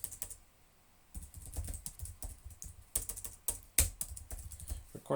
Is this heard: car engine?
no